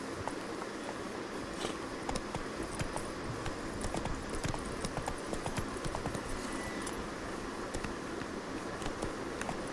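Roach the horse trotting in The Witcher 3: Blood and Wine, a steady run of hoof clip-clops that keeps going for the full stretch over a dense bed of in-game ambience.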